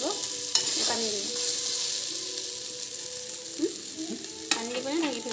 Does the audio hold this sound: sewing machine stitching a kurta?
no